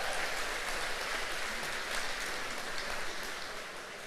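Sustained applause from an audience at a State of the City Address, marking the 35th anniversary of the Franklin Breakfast Rotary; dense, steady clapping throughout that eases slightly toward the end.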